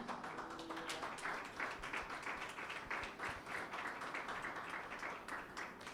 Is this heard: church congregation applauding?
yes